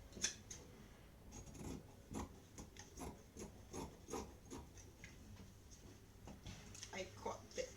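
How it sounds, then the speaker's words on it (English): Scissors snip through fabric for a long shirt top in a run of crisp, close cuts at an uneven pace, with quiet speech now and then between the cuts. "So let me cut this out."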